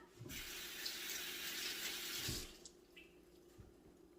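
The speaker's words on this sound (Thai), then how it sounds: "เอากระติกข้าวเหนียวพรมน้ำนะคะ" Water is sprinkled from a tap into a sticky rice container, a steady faint splashing and running stream for about two and a half seconds that then stops, followed by a few light knocks.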